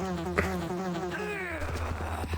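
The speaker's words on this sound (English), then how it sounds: "Oh, these stupid bees." Bees in a Resident Evil video game: a steady, droning harmonic buzz that holds and shifts pitch for a couple of seconds, alongside faint game clicks and thuds, with no talking.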